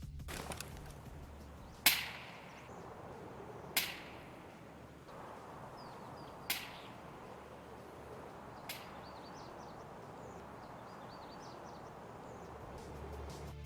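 Four sharp, muffled suppressed sniper shots from Escape From Tarkov ring out at distance, evenly spaced and growing fainter, each trailing a brief echo over a low ambient hum.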